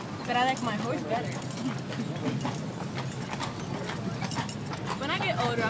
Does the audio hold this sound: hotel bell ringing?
no